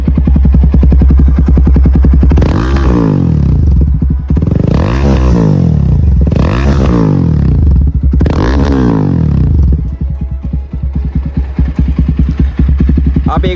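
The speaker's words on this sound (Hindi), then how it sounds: "अब एक बार मैं आपको रैप करके सुनाता हूँ। ये साउंड है सारी विदाउट डीबी किलर।" A Jawa 42 Bobber fitted with a GT full-system exhaust and no dB killer revs hard four times in quick succession, each blip rising into a loud raspy roar and dropping back to a throbbing, popping idle, close and unmasked.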